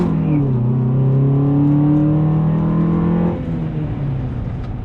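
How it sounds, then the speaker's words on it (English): Honda Accord accelerating hard from 0 to 60, engine pitch climbing steadily through a gear before dropping at a shift, heard from inside the car, loud and continuous. "Quick little 0 to 60 right here."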